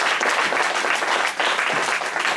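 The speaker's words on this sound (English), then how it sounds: "If you don't mind, just give them a round of applause, please." A church fellowship congregation applauds the speaker's parents at a summer gathering, with loud, dense clapping that dips briefly midway and then resumes.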